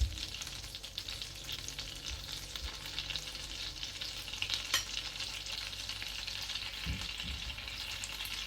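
French toast roll-ups fry in melted butter, a steady soft sizzle close by with an occasional faint knock, quiet and without talk.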